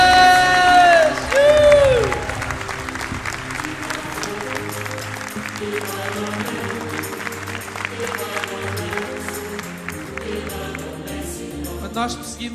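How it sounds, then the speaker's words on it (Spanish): Audience applause and cheering from a large crowd at a live motivational event, loudest in the opening seconds with whoops, then settling into steady clapping that carries on beneath music for the rest. "Uma grande salva de"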